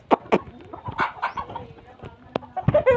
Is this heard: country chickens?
yes